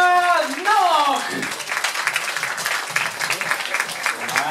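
An audience at a freestyle basketball battle event applauds two competitors, the scattered clapping rising after an announcer's voice and continuing moderately loud under crowd noise.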